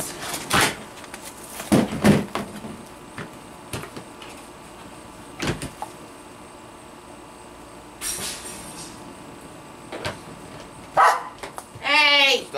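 A dog barks in a few sharp bursts amid household clatter and rustling, with a brief high yelp near the end.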